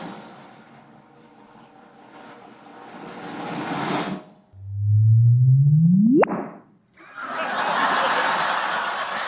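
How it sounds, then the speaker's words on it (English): A simulated gravitational-wave signal of two colliding black holes: a low rising whoop sweeps upward in pitch and ends in a sharp chirp, framed by bursts of broadband noise before and after. "This is the sound of two black holes colliding."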